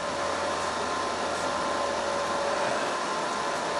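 A laser cutter working through a sheet of 1/4 inch cast acrylic on a honeycomb bed, giving a steady, even whoosh of exhaust and air-assist airflow that holds constant throughout with no talking.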